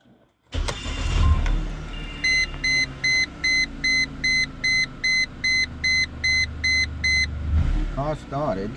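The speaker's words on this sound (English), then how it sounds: "Car started." A 2004 Mercedes C230 W203 with the 1.8 engine cranks and starts, then settles into a steady idle under a regular series of electronic beeps, with a short mechanical whir near the end.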